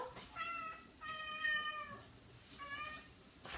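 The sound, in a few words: cat meowing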